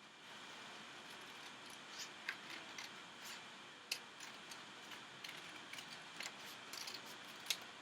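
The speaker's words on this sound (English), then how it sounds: "And then I'm going to take my scissors," Scissors snip through folded paper to cut out a circle, giving a quiet series of small, irregular clicks and crisp snips close by, with no talking over them.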